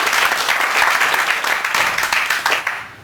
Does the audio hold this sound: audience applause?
yes